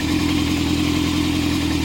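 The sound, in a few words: Yamaha Thundercat YZF600R 1998 motorcycle engine idling with choke on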